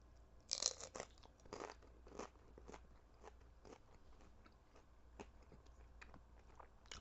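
Close, quiet crunching as someone chews a crisp topping from a Jack in the Box Pineapple Express shake, sharp crackly bites at first, then softer irregular crunches spread over several seconds.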